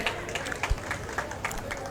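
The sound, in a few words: crowd applause welcoming candidate at road show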